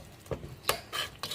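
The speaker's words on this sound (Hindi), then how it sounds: "अब इसमें जो है ये हम 1 खाने का चम्मच जो है भर के कस्तूरी मेथी डाल देंगे, और अब हम इसको हिलाएंगे।" Spoon stirring anda aloo curry with kasuri methi in a cooking pot, a few soft scraping scrapes and clinks spaced out over a quiet background.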